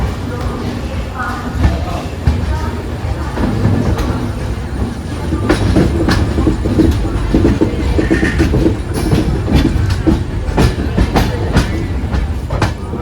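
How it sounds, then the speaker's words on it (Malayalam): A passenger train rumbles steadily along the rails on an overnight run toward Coimbatore. A loud, continuous low roar carries a rhythmic clickety-clack of wheels heard from inside a carriage, with occasional squeaks. "അങ്ങനെ നമ്മൾ ആ ട്രെയിനിൽ കയറി"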